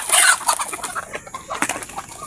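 Chicks cluck and peep nearby while pecking at a mixed feed, with short overlapping calls and a brief burst of wing flapping.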